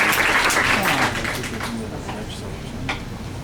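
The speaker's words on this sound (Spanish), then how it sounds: "Vamos a recibirlo con un fuerte aplauso" Seminar audience applauding to welcome a speaker, a full burst of many hands clapping that is loudest at the start and gradually thins and fades, with a voice faintly underneath.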